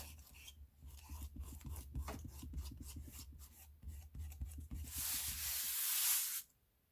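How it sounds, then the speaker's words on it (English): A rubber cement eraser rasping across a painted egg surface to lift off dry frisket, a soft, quiet scratchy rubbing in short repeated strokes, building to a brighter, louder stretch of scrubbing near the end before it stops. "I'm going to use my rubber cement eraser thing"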